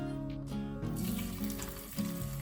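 Two tablespoons of oil and crushed ginger sizzle in a pan, a close, steady frying crackle with a few brief clinks and stirring shifts.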